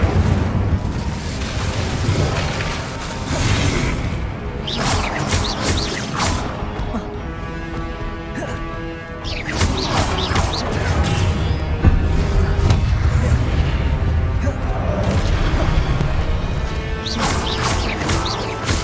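Incendio fire spells cast in Hogwarts Legacy, heard as a dense stretch of loud whooshing blasts and crashing impacts over a busy game soundscape, repeated bursts without a pause throughout.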